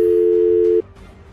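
A steady electronic tone on a phone call sounds loud and unbroken for under a second, then cuts off, leaving faint line hiss.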